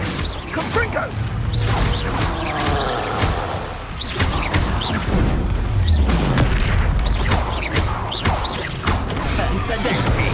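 Confringo fire spell blasts in a Hogwarts wizarding video game, a dense run of booming bursts and whooshes packed under constant excited shouting, loud and close throughout.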